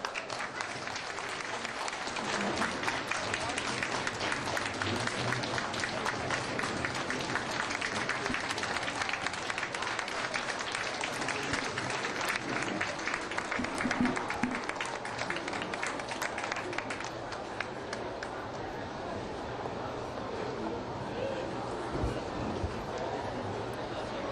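A large audience breaks into sustained, dense applause at the Sing Tao Daily 40th anniversary celebration in New York City, welcoming the Secretary of Labor. The clapping is loud and continuous, thinning slightly toward the end.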